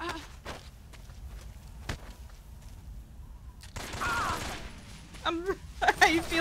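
Gunfire in the stealth action game Metal Gear Solid 3: Snake Eater: scattered sharp shots, footsteps and game effects, building to a louder burst of rapid fire near the end.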